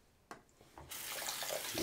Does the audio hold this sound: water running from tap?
yes